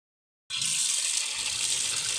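Tap water suddenly starts running after a silent start, a steady, fairly faint hiss and splash continuing without talk.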